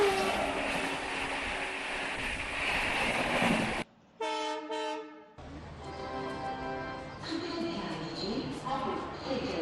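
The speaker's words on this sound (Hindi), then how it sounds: "हम एक ट्रेन जो भोपाल स्टेशन पे समय पहुंची है, दक्षिण एक्सप्रेस" A Dakshin Express train sits at Bhopal station, with steady rumbling railway noise, a brief pure horn-like tone in the middle, then continued train and platform clatter.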